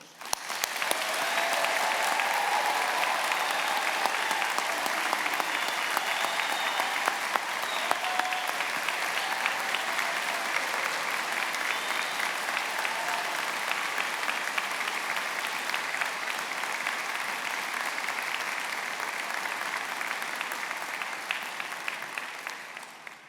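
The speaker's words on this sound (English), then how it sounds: "let's start today's ceremony by giving our amazing graduates a huge round of applause" A large crowd at a Birmingham graduation ceremony applauds steadily and warmly, the clapping sustained evenly for a long stretch without letting up.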